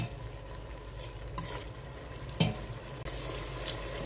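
Chicken thighs frying in a pan over normal heat, a soft steady sizzle with a few brief stirring scrapes and clinks, quiet and alone.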